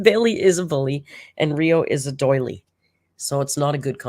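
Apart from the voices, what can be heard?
No everyday noise stands out behind the speech.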